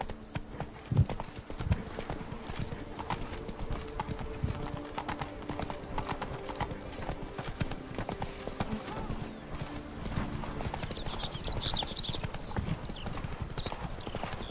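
Horse hooves clip-clop at a steady walking pace in The Witcher 3, a continuous rhythmic clatter that runs the whole time at moderate loudness, with game ambience around it.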